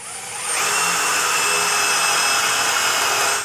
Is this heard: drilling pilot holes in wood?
yes